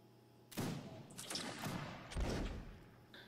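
Line infantry in a Napoleonic video game fire a musket volley: a ragged crackling burst of many shots, then a second heavier rolling salvo, heard at moderate distance over background noise.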